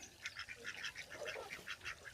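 Several geese call in quick, rhythmic bursts, a chorus of nasal honks and cackles repeating at close range.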